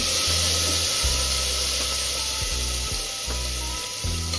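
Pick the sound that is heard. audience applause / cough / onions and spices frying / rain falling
onions and spices frying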